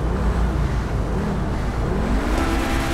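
Pegassi Ignus hypercar accelerates in GTA 5, a steady loud engine roar with rising pitch toward the end, heard alone over the game's traffic.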